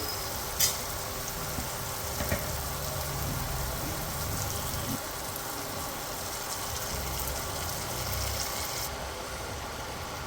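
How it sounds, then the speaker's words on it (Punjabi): Turnips hit a pan of sizzling tomato tempering with turmeric, giving a steady, dense frying hiss that runs the whole time, with a couple of faint clinks near the start and no talking. "ਹੁਣ ਅਸੀਂ ਇਹਦੇ ਵਿੱਚ ਸ਼ਲਗਮ ਪਾ ਦਵਾਂਗੇ"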